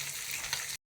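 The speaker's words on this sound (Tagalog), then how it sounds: "yung ating pinipiritong tilapia" Tilapia fries in hot oil with a steady, close crackling sizzle for under a second before cutting off abruptly.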